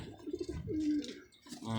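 Soft coos from caged pigeons on a rooftop close by, a few low throaty calls rolling one after another with brief pauses, faint rustling in the background.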